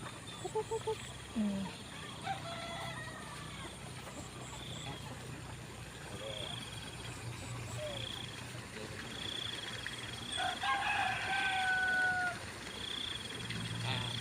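Bantam chickens gathered in the morning waiting for rice give faint, scattered clucks and a few drawn-out calls across quiet outdoor ambience, with people talking nearby.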